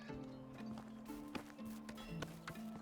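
Horse hooves clip-clopping in Medieval Dynasty, a quiet run of uneven thuds over faint tonal background sounds, with no speech.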